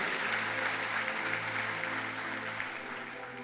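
A church congregation applauding steadily for a few seconds, a dense, even clapping wash over a sustained low musical drone.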